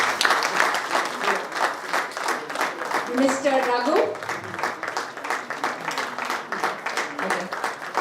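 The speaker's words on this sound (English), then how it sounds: "A big crowd of applause to them" An indoor audience at a business chapter launch event in Coimbatore claps continuously for several seconds, with a dense, steady patter of many hands, while a voice speaks briefly over it.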